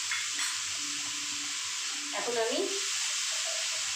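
Turmeric and chili paste hitting a hot pan with fish, giving a steady hiss of frying with a brief louder sputter partway through.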